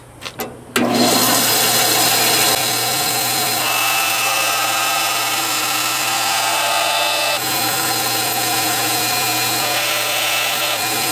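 A bandsaw cuts through a small piece of bone for a cigar box guitar zero fret, a loud, steady, close mechanical whine and rasp that starts abruptly after brief handling noises and keeps going without talking.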